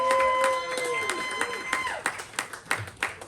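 A comedy club audience applauds and cheers for the performer Chorus Galore, a dense wash of clapping that thins into scattered louder claps, with a host's voice over it.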